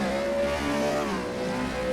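An IndyCar race car engine in a racing video game, a loud continuous revving whine that holds steady and dips slightly in pitch, heard alone.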